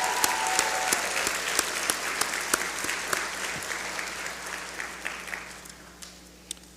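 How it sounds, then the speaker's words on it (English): Audience applause at a law school graduation hooding ceremony, steady dense clapping from a large crowd with a few sharp louder claps, gradually thinning toward the end. "Let's give that group of support system a rounding applause as well."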